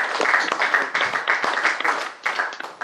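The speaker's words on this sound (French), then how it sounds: "Acclamons la parole du Seigneur." A church congregation at a worship service breaks into sustained applause, dense overlapping hand claps filling the room loudly and evenly throughout.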